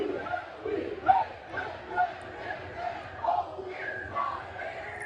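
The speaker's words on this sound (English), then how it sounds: "as the crowd lets it go." A crowd at an Ole Miss alumni pregame party before the Fiesta Bowl lets out rising and falling cheers and chanting, fairly distant and moderately loud.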